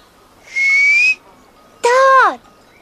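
Two clear human whistles sound close by, the first a steady held tone and the second a brighter note that slides downward, with a short gap between them.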